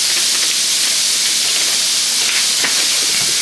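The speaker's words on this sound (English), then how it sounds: "So the water is boiling" Water boils vigorously on a stovetop for gnocchi, a loud constant hissing roar with bubbling and sizzling close by, uninterrupted throughout.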